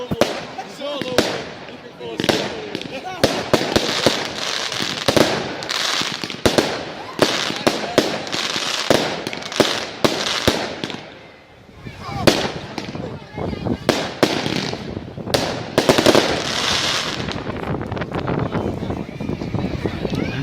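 Bonfire Night fireworks crackle and pop in dense, rapid loud bursts throughout, with a brief lull midway, while people talk nearby.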